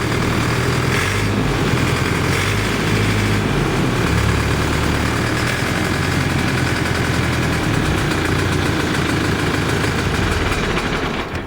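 A DMTZ 544X walk-behind tractor engine runs loud and close, with a steady, rough, throbbing drone that continues without a break.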